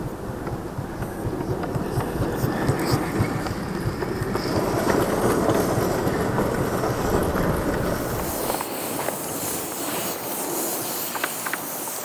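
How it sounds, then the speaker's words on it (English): A garden steam locomotive rolls slowly out of a basement on rails, giving a continuous rumbling roll with light clicking and hiss that brightens toward the end. "I can let the engine drift out of the basement on its own"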